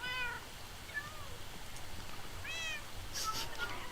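Several cats meow in the Minecraft video game, a few short rising-and-falling calls spread across the moment, fairly clear over a steady low background hum.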